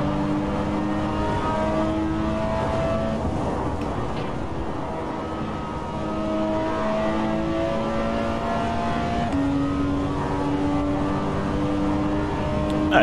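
A Porsche 911 GT engine in a racing video game roars steadily, its pitch climbing and dropping as it revs through gear changes at high speed.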